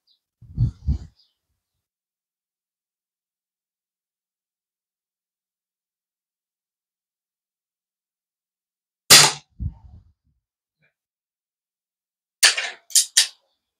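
Shots from a Gamo Hunter 440 4.5 mm air rifle, stored unused for twenty years: three sharp, close pops, each followed by a quick clack, spaced far apart with silence between them.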